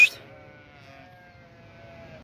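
Sheep being driven toward a highland pasture bleat in a drawn-out tonal call at moderate distance, sustained across the moment after a brief sharp noise at the start, the outdoor air otherwise quiet.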